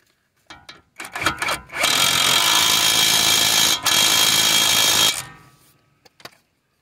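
A tool with an 18mm socket tightens a tie rod nut on a 2009-2017 Chevy Equinox front end: a few short bursts, then a loud, close, sustained whirring run of about three seconds with a brief break before stopping.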